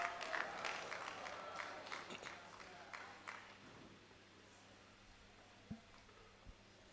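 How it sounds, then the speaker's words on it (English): Applause from the audience at a national Rastafari conference, quiet and distant, a brief patter of many clapping hands that fades away, followed by near-silence and a couple of soft knocks. "Please, let's welcome him with applause."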